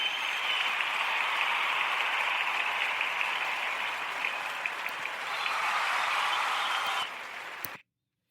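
A single listener claps steadily in sustained applause for a KC Current women's soccer attendance record. The sound stays even and fairly faint for about seven seconds, then cuts off abruptly.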